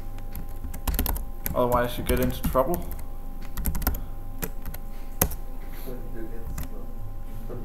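Steady typing on a computer keyboard, a run of quick close clicks continuing throughout while someone speaks briefly over it.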